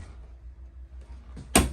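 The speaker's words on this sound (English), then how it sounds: "I do like to open all the cabinet doors and close them" Cabinet doors in a Grey Wolf 29TE camper are worked inside the trailer: a soft bump or two, then one sharp, close clack of a door shutting near the end, in a quiet room with no talk.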